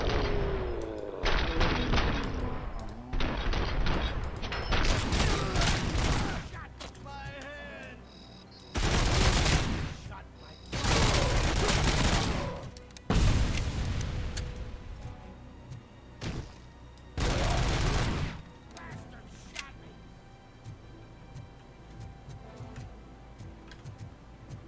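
Automatic gunfire in the Robocop: Rogue City video game comes in several loud, dense bursts separated by short pauses, with mechanical clicks and game effects between the volleys.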